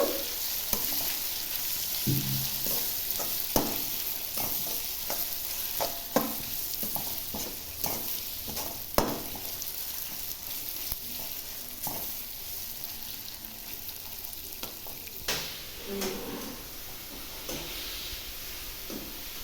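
Raw-mango pulihora mixture cooks in oil in a pan until the oil separates: a low, constant sizzle with frequent spatula scrapes and taps spread irregularly throughout.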